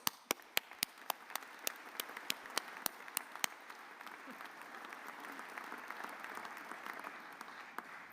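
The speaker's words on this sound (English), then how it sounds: "ask you to join me in a round of applause for Katie and Joanna" A few sharp, well-spaced claps at an honorary doctorate ceremony swell into a full, steady round of audience applause that carries on evenly for several seconds.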